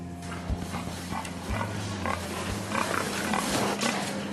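Pigs in a large industrial piggery near Angers, France: a steady crowd of grunts and snuffles over a constant mechanical hum, filling the barn without pause.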